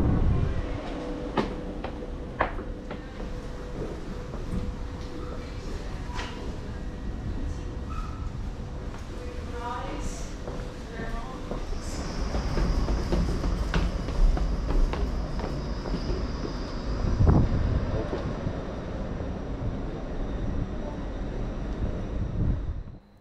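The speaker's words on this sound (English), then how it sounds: "And here's our train arriving on its inbound service from Ipswich." A Stadler FLIRT Class 755 train rumbles steadily into a station, with clattering wheels, a rising electric whine and brakes hissing as it slows, heard from the platform.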